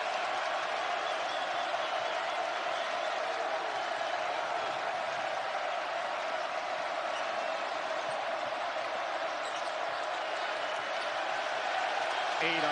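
Basketball arena crowd during an Alabama vs Houston college game, a steady loud roar of cheering and applause that fills the whole stretch without letup, with a play-by-play commentator talking over it.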